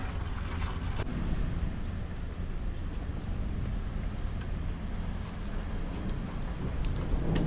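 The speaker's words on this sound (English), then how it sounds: "Look at that nice rain." Steady rain falling in open countryside near a parked Peterbilt truck, a continuous broadband hiss with some wind rumble, even and unbroken throughout, with no talking.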